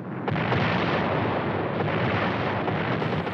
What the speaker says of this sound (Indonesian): Melihat ledakan tersebut di sini